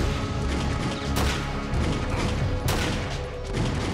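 Gunfire in the Partisan video game comes as a dense, loud, continuous barrage of shots and crashing impacts, with a couple of sharper bursts standing out and no talk.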